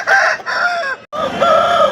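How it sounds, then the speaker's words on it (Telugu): A rooster at a hen market crows loudly and close by in one drawn-out call, broken by a brief pause, then continues with clucking fowl tones. "మీరు చూస్తున్న ఈ కాకిడాగ పుంజు వచ్చేసి మన బలరాం కృష్ణ అనేది."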